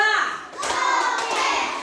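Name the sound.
children clapping along in a classroom clap game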